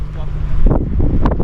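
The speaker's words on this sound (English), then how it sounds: "around here it's very windy and cold here because it's very high in the mountain" Strong, cold wind gusting around a microphone high on a mountainside near Cotopaxi volcano in Ecuador, a steady low rumble that swells in buffets, with faint voices in the background.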